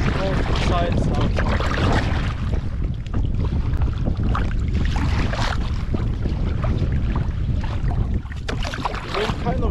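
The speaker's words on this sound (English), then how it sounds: "paddling on both sides now" A canoe is paddled on alternating sides through wind on a fjord in Agder, Norway, with steady microphone-buffeting wind noise and faint water strokes throughout.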